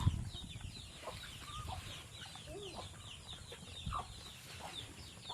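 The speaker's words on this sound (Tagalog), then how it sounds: "Sarap pagmasdan yung mga chicken." Farmyard chickens cluck softly and intermittently at a moderate distance, with scattered bird calls over a steady outdoor background hum.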